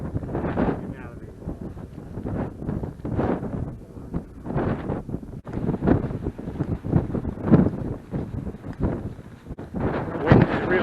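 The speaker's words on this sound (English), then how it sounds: "The wind has really picked up again." Strong wind buffets the microphone on an open fell hike in Dunsop Fell, rumbling in continuous low gusts that rise and fall throughout, with a voice speaking faintly under it.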